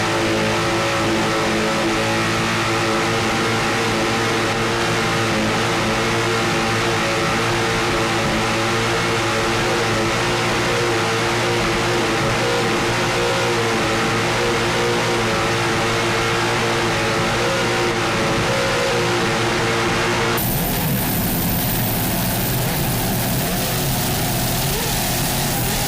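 Onboard a 40-foot Platinum powerboat with Sterling Power engines and Mercury drives while racing, a loud, constant engine roar with steady harmonic drone that shifts to a rougher wash of noise late on.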